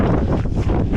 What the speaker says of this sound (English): the wind is just bitterly cold